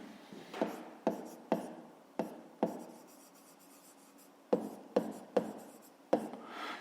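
Pen strokes on paper while a math exercise answer is written out, a series of quick close scratches in two bursts with a pause between, no voices.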